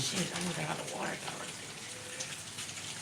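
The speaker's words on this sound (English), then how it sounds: "I'm gonna look at the rain." Steady rain falls throughout, a dense, even hiss of drops spattering on surfaces with no break, at moderate loudness and close by.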